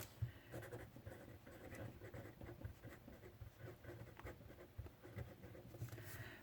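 Pen or marker writing on a board during a lesson about magnifying power, with soft scratchy strokes and short taps in an irregular rhythm, quiet and close with no talking.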